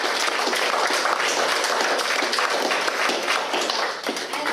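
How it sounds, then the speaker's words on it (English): An audience at a criminal law information evening gives a dense, loud round of applause, many hands clapping steadily and evenly throughout with no break. "So a round of applause for us."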